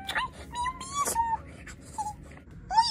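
A young female puppy gives a few high, wavering whimpers and thin moans, close and soft, with quiet voices and handling noise around it indoors.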